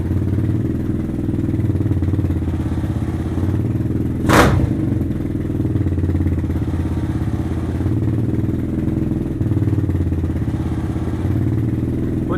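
A Venom Thunder 125 dirt bike idles loudly and close, its engine a steady low chugging drone, with a brief sharp clunk as the clutch engages partway through and the idle holding steady afterward.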